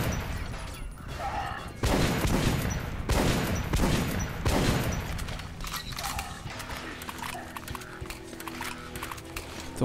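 Shotgun blasts in the first-person shooter Metro: Last Light Redux, several heavy booming shots spaced a second or two apart, followed by quieter clattering game action.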